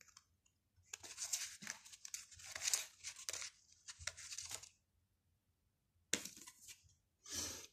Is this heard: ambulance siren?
no